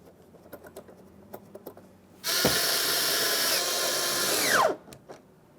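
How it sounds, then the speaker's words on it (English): A power driver runs for about two seconds, snugging two 7mm mounting bolts on a Ford F-150 rear door grab handle. A loud steady whir rises, then winds down, with light clicks and handling noises before and after. "We've got two 7mm mounting bolts. You can go ahead and start those in and snug those up as well."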